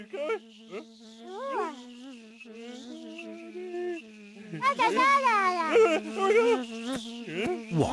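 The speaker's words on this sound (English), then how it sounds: "Oh, it's a bee." A bee buzzes in a children's cartoon, a steady droning hum that wavers in pitch, with a child-like voice speaking over it and rising, sliding tones throughout.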